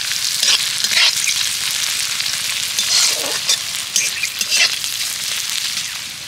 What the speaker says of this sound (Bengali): এবার এই রসুনটা পেঁয়াজটাকে ভালো করে ভেজে নেব